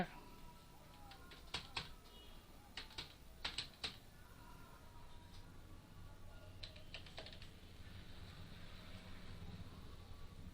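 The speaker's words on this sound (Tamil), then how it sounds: "நீங்கள் உங்களுடைய யூசர் ஐடி டைப் பண்ணிங்க" Quiet bursts of keyboard typing, several quick clusters of key clicks separated by pauses, with a low background hum.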